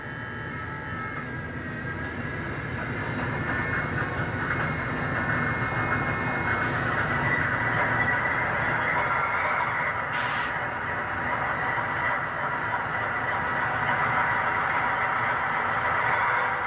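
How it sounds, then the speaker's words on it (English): MTH HO scale Dash-9 diesel model locomotive running its startup sound sequence, a steady engine rumble that swells and settles into a continuous idle, with a brief hiss partway through. "MTH locomotives require you to hit F3 in order to trigger the startup sequence and allow you to move the locomotive."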